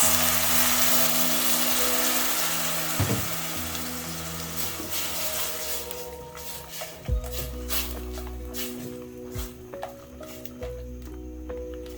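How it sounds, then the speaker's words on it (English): Meatball stew simmering in tomato sauce in a pan, a bubbling sizzle that is loud at first and then settles into a quieter simmer with occasional low knocks and clinks, and no voices. "I'm going to cook this for about 7 minutes till the sauce has thickened up and the tomatoes are well done."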